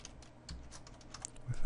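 Quiet, close typing on a computer keyboard, a short run of light irregular key clicks ending in a couple of louder taps.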